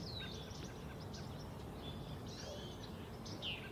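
A goldfinch and a yellow-rumped warbler give short, thin chirps and twittering calls, faint and at a distance, over a steady hiss of outdoor ambience.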